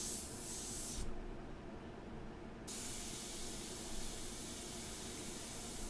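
An airbrush sprays a light-medium India ink mixture in one continuous, steady hiss that runs close and loud for the whole stretch, with a brief change in tone partway through and no talking.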